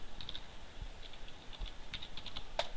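Light, quick keystrokes tap on a computer keyboard in an irregular run of clicks, close but fairly soft, with no voice over them.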